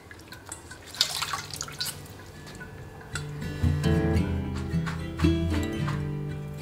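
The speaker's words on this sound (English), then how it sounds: "Wash and clean them thoroughly." Leafy greens for an Odisha-style side dish are rinsed in water, with steady drips and splashes of water over a low background, getting busier and fuller partway through.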